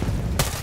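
A single sharp gunshot cracks out close and loud over a low game-soundtrack rumble during a Far Cry 6 firefight, with enemy fire aimed at the player.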